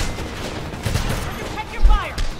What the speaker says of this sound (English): Wow, I'm taking a lot of bullets.